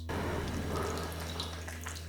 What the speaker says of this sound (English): So we add enough water there.